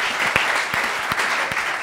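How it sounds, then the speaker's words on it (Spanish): Audience applause at a wine tasting session, a brief burst of steady clapping from a small crowd, moderately close. "darle por lo menos un aplauso"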